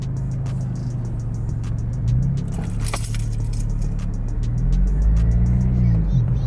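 Honda Civic Si with a manual gearbox pulling away in first gear, low engine hum rising as it moves off, with a soft jingle of keys throughout and a brief voice near the middle.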